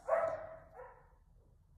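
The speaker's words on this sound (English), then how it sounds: "Sorry about the dogs, guys." Several dogs bark indoors, a loud burst of yapping at the start followed by a fainter bark and softer trailing yips, with no talking.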